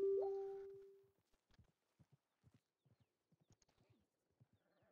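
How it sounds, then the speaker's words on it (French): A horse whinnies loudly at the start, the call fading over about a second, then its hooves clip-clop in an irregular walking rhythm, close and clear, with no voices. "j'entends un cheval en tout cas"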